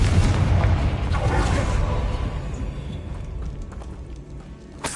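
A Confringo fire spell detonates in Hogwarts Legacy, a loud rumbling boom at the start that slowly fades over several seconds, ending with a small sharp pop near the close.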